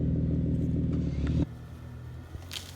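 A Jeep Wrangler engine pulling out of a rut, a loud low rumble that cuts off abruptly midway, leaving quieter engine idle and faint rattles with a brief knock near the end.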